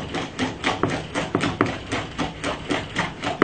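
Jamaican fruit cake batter being whisked by hand in a bowl, a steady run of close, clicking taps and scrapes in a quick, even rhythm with no voices.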